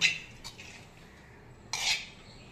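Metal spoon clinks against a bowl while oil and chili powder are mixed into a tandoori chicken marinade; two short scraping, clattering bursts with quiet pauses between.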